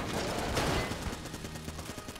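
Rapid gunfire from a powerful gun in the video game Enter the Gungeon, a dense burst of shots crackling together, then trailing off into scattered lighter pops, with no talk.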